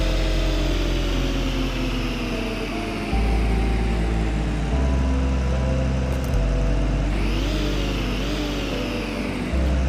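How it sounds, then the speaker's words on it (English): A bus engine in a video game hauls uphill without the retarder, its loud steady drone shifting through low gears with stepped pitch changes and a rising whine near the end, and no voices. "So that's normal, sounds like a traditional bus."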